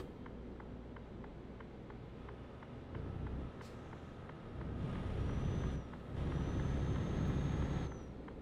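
Truck air brakes hiss in a trucking video game, longer releases swelling around the middle and end over a steady engine drone, with faint regular ticking throughout.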